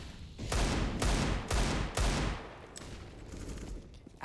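Pistols fire in a Counter-Strike match on Mirage: four loud shots at even half-second spacing, then fainter, more distant pops trailing off.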